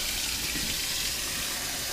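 Tap water runs steadily from a kitchen faucet into a measuring cup, a constant close hiss and splash with no pauses.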